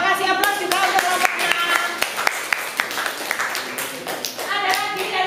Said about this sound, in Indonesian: Terima kasih aplaus juga untuk kelompok